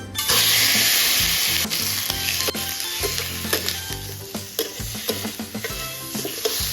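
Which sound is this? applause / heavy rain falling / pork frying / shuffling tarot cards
pork frying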